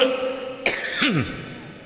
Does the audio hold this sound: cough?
yes